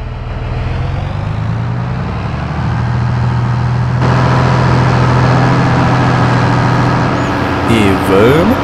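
A 600 hp tractor engine in Farming Simulator 22 drones steadily and loudly throughout, a deep continuous rumble with a slight shift in tone partway through.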